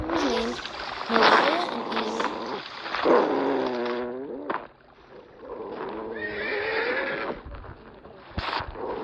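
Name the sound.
horses neighing and hooves clip-clopping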